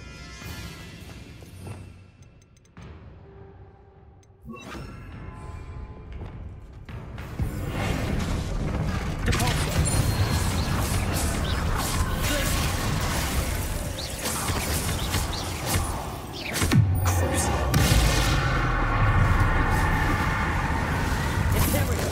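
Bombarda spell blasts in Hogwarts Legacy during a fight against Inferi, heard as dense, loud bursts and crashing impacts that layer into a sustained roar, with a sharp swell near the end.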